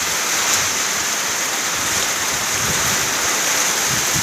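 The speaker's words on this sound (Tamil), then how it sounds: "மழை தண்ணி குடிக்கிறதுக்கு பிடிக்க வச்சுருக்கேன்" Summer rain falling steadily outdoors, making a dense, even hiss that holds at a steady level throughout, with no voices.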